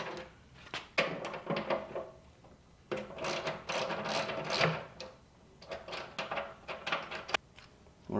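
An 11 mm socket wrench breaks loose bolts on the backrest of an Indian Springfield Dark Horse motorcycle, giving close clusters of ratcheting clicks and metallic knocks in uneven bursts.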